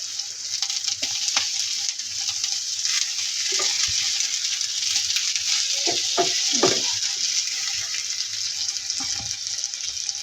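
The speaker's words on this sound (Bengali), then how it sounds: "প্রত্যেকটা রুটি ভেজে নিব ভালোভাবে" Rotis fry in a pan with a constant bright hiss of sizzling oil, punctuated by soft scrapes and taps as they are flipped one by one.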